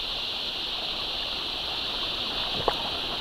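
Small trickle of creek water near palm trees, a faint steady gurgle with a single brief splash near the end.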